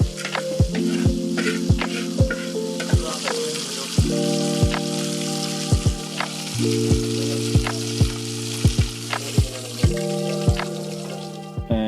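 Food sizzles steadily in a frying pan in the kitchen of a small home-style lunch eatery in Malappuram, Kerala, with sharp utensil clicks scattered throughout and a tonal background that shifts every few seconds.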